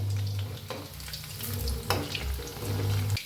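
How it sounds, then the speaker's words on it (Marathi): Chicken 65 pieces deep-frying in hot oil, a loud continuous bubbling sizzle close by, with a few stirring clinks and no talking. "चांगले असे तळून घ्या आणि गॅस कमी करा म्हणजे आतपातून मस्त असं तळलं जाते"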